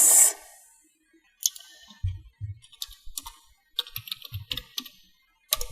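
Computer keyboard typing and mouse clicks while saving a Java source file, a sharp click up front followed by clusters of quick, close key taps and clicks in a quiet room.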